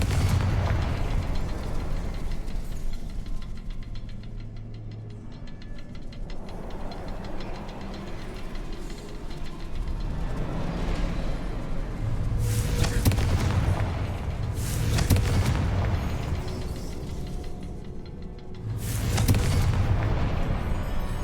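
A Confringo fire spell from the video game Hogwarts Legacy bursts in a series of heavy booming explosions, several loud blasts with rumbling low ends over a steady background hum and no talk.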